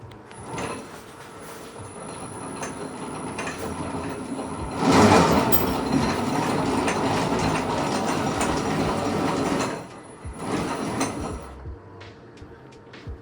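A go kart drivetrain whirs and clatters with a ratcheting mechanical rhythm as the throttle is pushed, swelling in a louder burst midway and easing off near the end, close by with no talk.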